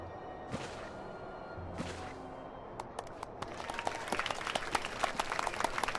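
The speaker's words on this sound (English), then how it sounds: "and everybody clapped." Crowd applause in Final Fantasy XIV, rising after a few brief thumps into a swelling patter of many hands clapping that grows louder toward the end.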